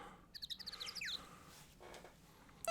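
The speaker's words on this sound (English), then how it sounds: "I do like the fact we've got like random birds chirping every so often." Synthetic video game bird chirps from Ace Attorney: a quick series of bright, high tweets in the first second, then quiet ambience with a faint chirp at the end.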